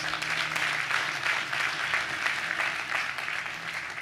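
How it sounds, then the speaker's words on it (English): Crowd clapping at a groundbreaking ceremony for a housing redevelopment in Cleveland, a steady outdoor wash of many hands at moderate level, continuous for several seconds with a low hum beneath. "clap for yourselves"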